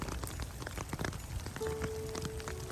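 Rain falls steadily through an all-day downpour, a soft, continuous patter of scattered drops on surfaces, faint and even, with a brief thin tone partway through.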